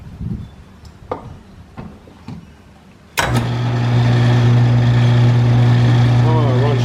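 An old steam-powered machine shop lathe turns a governor arbor shaft. Light clunks and a brief voice come first, then the machinery starts abruptly into a loud, steady running hum and whir.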